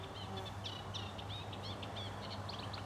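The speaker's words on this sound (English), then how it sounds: "there's a hidden songster over there somewhere" A hidden songbird sings near a muddy path on a countryside walk between Amberley and Arundel, a faint, distant run of repeated chirps over a steady low hum.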